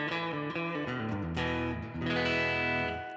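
Guitar through a Fender Bassman-style rig with the reverb's diffusion switched off, giving a dense, sustained, distorted chord wash that rings steadily for a few seconds with no talking.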